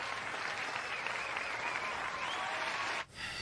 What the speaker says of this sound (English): give Nicole a round of applause